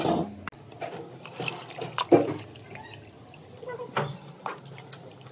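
Small fish for a tangy curry being washed in water by hand, with irregular splashes, sloshes and drips, fairly close, with a faint voice now and then.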